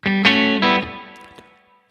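An electric guitar raked across its strings in quick strums, two or three sharp strokes through a distorted, heavily reverbed tone that rings out and decays over about a second.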